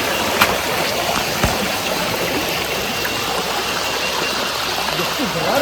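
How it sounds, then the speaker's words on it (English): River water rushes under a roadside bridge near Manjaguni temple in Uttar Kannada, a steady broadband wash of flowing water that holds an even loudness throughout, with a couple of faint knocks. "This is the water flowing."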